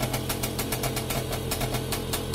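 A Romet 2375 moped engine warms up at idle, a steady, close, rapid putter with a regular pulsing beat that holds evenly throughout.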